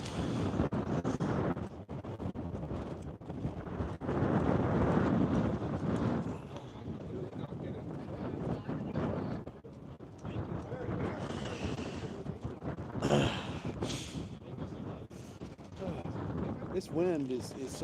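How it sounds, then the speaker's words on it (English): Strong wind on the high plains buffets the microphone in heavy, continuous roaring gusts, loud and close, while a person talks and breathes over it at times. "This wind is so hard that the muscles in my leg are hurting."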